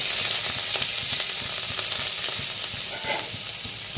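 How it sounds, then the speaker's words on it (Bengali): Garlic sizzles steadily in hot refined oil in a pan, a dense close crackling hiss with faint stirring scrapes throughout and no talk. "তেলটা গরম হয়ে গেছে, তো দিয়ে দিব প্রথমে রসুন"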